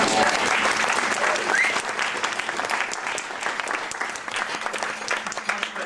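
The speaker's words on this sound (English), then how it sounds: "Round of applause." Wedding guests clap during a best man's speech, dense applause that slowly thins into scattered claps and cheers.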